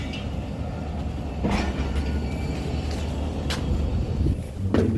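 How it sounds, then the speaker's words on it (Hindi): Rumble of a passenger train picking up speed on a journey from Sindh to Punjab, with rolling wheel noise, rattling carriages and a few sharp clanks and squeaks heard from inside a car. "ट्रेन तेज़ हो गई है।"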